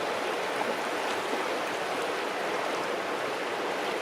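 A moorland river runs continuously in a quiet spot, a steady, dense rushing and babbling of water close by with no other sounds over it.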